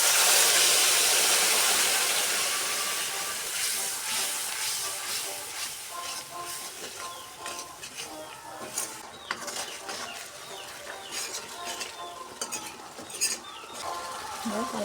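Steady broadband sizzling from a spice paste of ground masala, turmeric, chili powder and salt frying in oil as a little water goes in, close and loud at first, then settling into a softer hiss with light stirring and utensil clinks.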